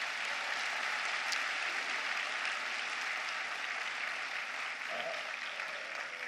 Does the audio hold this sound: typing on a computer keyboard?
no